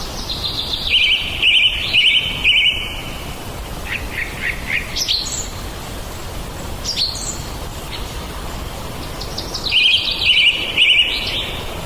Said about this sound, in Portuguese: Blackbird, por outro lado, Ivan, ele é uma espécie que ocorre na Europa